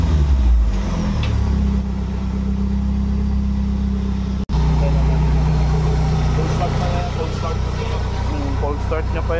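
A Toyota 4A-FE car engine idles steadily after a cold start, with a rough-idle, unstable-RPM and low-fuel-pressure fault. It gives a loud, continuous close drone while people talk over it.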